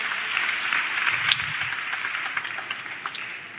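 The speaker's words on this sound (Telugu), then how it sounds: "చప్పట్లు కొడుతూ అందరం దేవునికి స్తోత్రాలు చెప్దాం." A church congregation at a Good Friday service claps in sustained rapid applause that fills the room, fairly loud and dense before thinning slightly toward the end.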